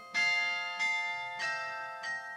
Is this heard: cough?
no